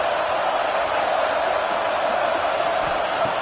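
Roaring stadium crowd at a football game, a dense, steady wall of cheering and noise that holds without a break throughout.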